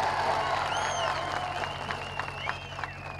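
A crowd applauds at a political rally, a steady wash of clapping and cheering with whistles cutting through, heard from within the gathering.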